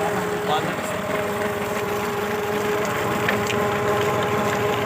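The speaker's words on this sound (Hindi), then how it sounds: "और ये ट्रैक्टर लगा हुआ है, ये देखें ये ट्रैक्टर है और इसके साथ ये बेलना कनेक्ट किया हुआ है इन्होंने।" A tractor engine drives a sugarcane crusher roller through a shaft while jaggery is made, a steady mid-pitched running drone with a faint rhythmic pulse, continuous and close throughout.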